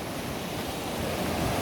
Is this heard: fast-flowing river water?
yes